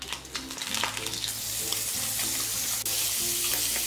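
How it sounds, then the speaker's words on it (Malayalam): Tinned fish hits hot olive oil in a pan and is stirred, giving a close, continuous sizzle and crackle with soft scraping from the stirring. "ഇനി ഇതിലേക്ക് ഈ ടിൻ ഫിഷ് ഇട്ടിട്ട് നന്നായിട്ടൊന്ന് ഇളക്കി കൊടുക്കാം"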